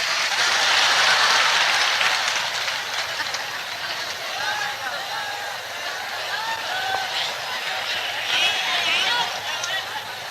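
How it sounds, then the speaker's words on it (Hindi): Audience clapping at a live kavi sammelan (Hindi poetry recital) in Indore, a broad sustained wash of applause from a crowd, loud at first and easing slightly, with faint voices and a speaking voice mixed in. "बजाओ ताली"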